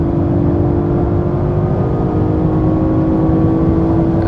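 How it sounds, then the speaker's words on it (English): An Audi RS5 Coupé accelerates on the Autobahn, a steady loud cabin drone of engine and road noise with a constant low hum and no breaks, no talking. "So now we can accelerate further."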